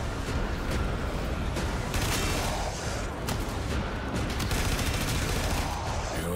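Enemy gunfire in Warframe, a steady barrage of rapid shots crackling over a dense background of combat noise, loud and continuous without any talking.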